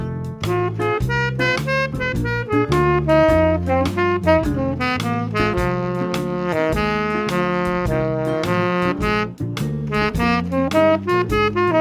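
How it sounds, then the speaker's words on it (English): A basic blues improvisation built on blues and pentatonic scales is played as a steady stream of clear melodic notes over chordal accompaniment. It continues evenly for about twelve seconds with no talking. "Do your basic blues improvisations sound something like this?"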